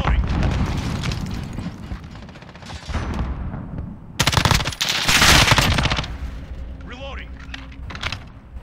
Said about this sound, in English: Enemy cruise missile, take cover.